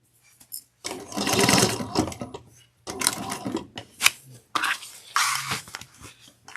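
Sewing machine running in bursts while stitching the seam of a tablet clutch, three separate runs of fast mechanical whirring with short pauses between them, close by.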